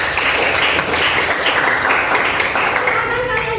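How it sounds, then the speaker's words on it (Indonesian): Classroom applause from students after a classmate's presentation, a dense steady patter of clapping filling the room for several seconds, with some chatter mixed in. "Tepuk tangan buat presentasi teman kalian."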